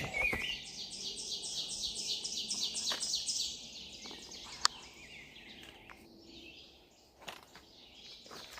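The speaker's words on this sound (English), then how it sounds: "Place is alive with birds." Many birds sing in a forest along a hiking trail, a dense chorus of repeated high chirps and trilled phrases layered together, moderately near with no talking.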